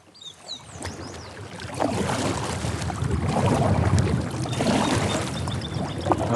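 Paddling a small boat out on a windswept lake near an island, with steady water sloshing and splashing against the hull under gusty wind noise, continuous and fairly close throughout.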